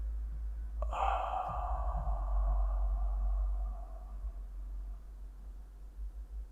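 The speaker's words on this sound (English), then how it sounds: "inhale through the nose, exhale through the mouth" A slow, steady exhale through the mouth during a guided breathing exercise for anxiety relief, a soft airy rush lasting about three seconds and then fading into quiet room tone.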